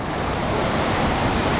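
Water roars down Boulder Canyon in a loud, steady, broadband rush, close and continuous, with no voices over it.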